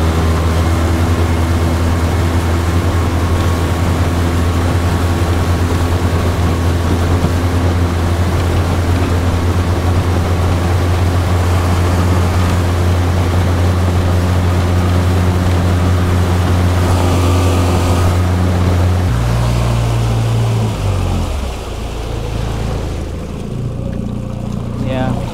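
A Wright Water 12 skiff planes across the water with its outboard droning loud and steady for a long stretch, then the engine note drops and eases off near the end; voices talk faintly beneath the motor.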